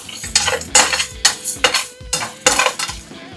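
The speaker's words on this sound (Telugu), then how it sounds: "ఇది లో ఫ్లేమ్లో పెట్టుకొని బాగా వేయించుకున్నాము" Spices for a dhaba-style Punjabi chicken curry fry in a pan on low flame, while a metal spoon stirs and scrapes against the pan in repeated clanking strokes over a faint sizzle.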